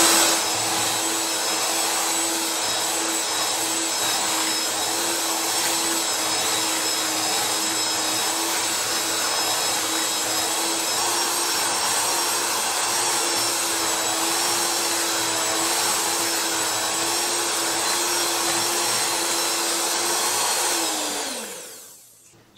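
An electric mixer beating grape-flavoured homemade meringue, a steady loud motor whine held for about twenty seconds before winding down and stopping.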